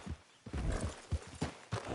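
Horse hooves in the video game Red Dead Redemption II, a clip-clop beat of several close, fairly loud hoof strikes at a steady walking pace.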